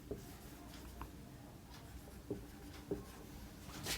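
Marker or chalk writing on a board during an MS Excel class, a faint scratchy scribbling with a few short taps, quiet and steady with light room noise.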